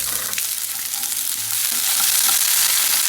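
Small onions frying in hot oil with chana dal and dried red chillies for beetroot chutney, a steady close sizzle with a faint stir or two, no talking.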